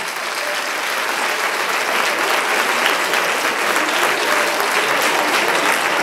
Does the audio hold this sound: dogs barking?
no